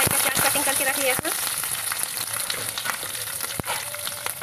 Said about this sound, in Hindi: अब इसे हल्का सुनहरा होने तक फ्राई करेंगे।